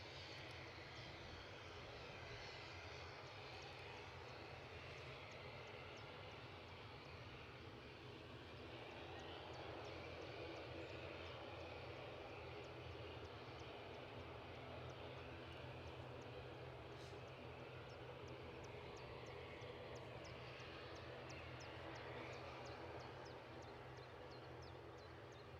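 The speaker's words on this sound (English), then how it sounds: "So we've got an ATR outbound." ATR turboprop airliner departing Edinburgh Airport, a steady, sustained engine roar with broad propeller drone that holds strong and even throughout, swelling slightly midway, with no talk over it.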